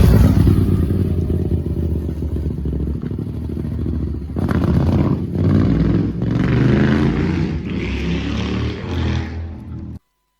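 A motorcycle roars past on a country road near Bunny Corner, its engine loud and close throughout, swelling and shifting as it goes by before cutting off abruptly.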